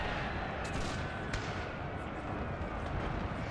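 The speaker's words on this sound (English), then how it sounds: "I will order them to fire at the unit further away. Fire canister that way." Canister shot and musket volleys in a Total War battle set in the Thirty Years' War, heard as a dense, continuous rumble of distant gunfire with a few sharper cracks, loud and unbroken throughout.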